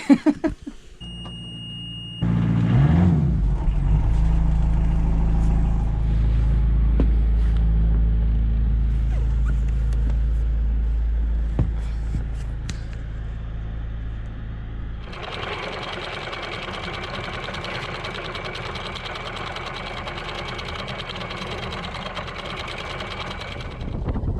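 A sailboat's engine chugs steadily while it motors out of an anchorage, a loud low drone that runs on and then gives way to a harsher, brighter mechanical whir later.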